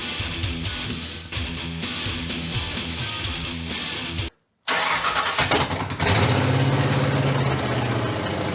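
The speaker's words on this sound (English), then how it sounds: "We have an ignition switch, and we have a starter. This might end up being loud, Chris." The V8 of a 1984 Ford Mustang cranks with a rhythmic starter churn, falls briefly silent, then fires and catches into a loud, rough, rumbling idle that swells close by.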